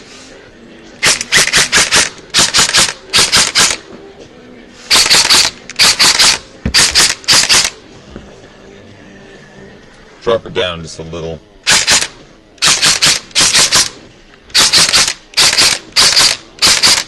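An Echo1 Troy airsoft rifle fitted with a 16:1 speed gear fires on semi-auto, each shot a crisp mechanical snap, in quick groups of three to four shots with short pauses between; a brief spoken comment interrupts midway.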